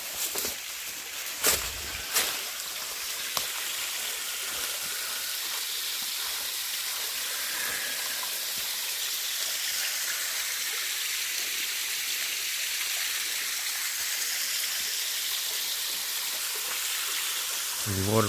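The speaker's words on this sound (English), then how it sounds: "There's a waterfall." A small waterfall pours into a creek, giving a continuous bright rushing hiss that stays steady and close, with a few knocks and a brief voice near the start.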